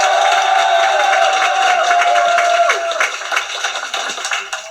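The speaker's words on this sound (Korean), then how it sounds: "네, 큰 박수 부탁드리겠습니다." An audience applauds at a youth-wing induction ceremony for a political party, a steady, loud wash of crowd clapping and noise that holds and then tapers off at the end.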